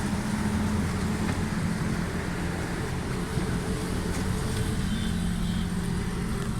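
A 2005 Honda City's engine runs steadily with the air conditioning switched on, a continuous low hum and rumble that holds fairly even, with no one speaking.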